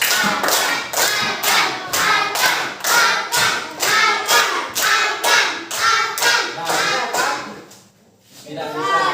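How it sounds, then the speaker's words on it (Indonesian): Children in a primary school classroom clap their hands together in a steady, evenly spaced rhythm of loud, close claps that stops briefly near the end and then starts again. "Tepuk tangan yuk."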